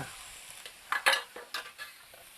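Pork stir-fried in oil in a pan for mee sua gives a quiet sizzle, broken by several sharp scrapes and clinks of a utensil against the pan in an irregular rhythm, with no voices.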